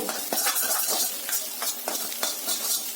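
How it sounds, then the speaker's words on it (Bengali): Eggs seasoned with black pepper fry in a pan for street-style egg chicken chowmein, a steady sizzle under frequent scraping of a spatula against the metal, close and busy with no talk. "ডিম খুব ভালোভাবেই ফ্রাই করে নেব।"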